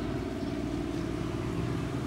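A river barge engine works at full throttle against a strong current, a dense low, steady rumble that stays loud and unbroken, with no talk.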